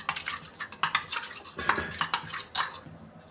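A spoon scrapes and clinks around a bowl while mixing a paneer marinade with lemon juice, in quiet, irregular strokes up close with no talking.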